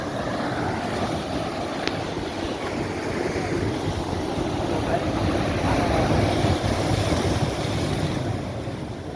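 Sea waves surging and splashing at Digha beach in rainy weather, a loud, continuous roar of surf mixed with heavy wind buffeting the microphone.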